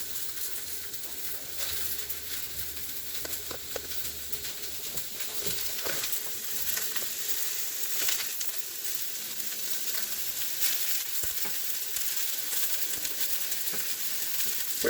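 Garlic, ginger, onions and celery sizzle in a hot wok, a steady hissing crackle with occasional stirring scrapes and knocks, close but moderate in level, no voices.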